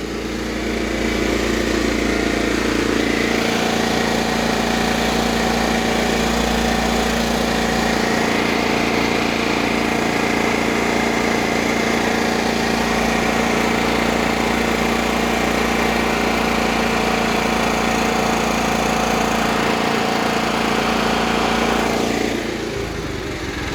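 A Cub Cadet 1330 lawn tractor engine runs steadily and loudly for about twenty seconds, its even idle drone holding constant close by before it fades near the end.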